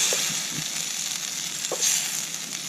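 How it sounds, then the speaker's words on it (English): Mushrooms frying in rendered pancetta fat in a camp pot, a steady broad sizzle with a few faint stirring clinks, alone with no talk. "One last thing that we have to fry up a little bit is some mushrooms"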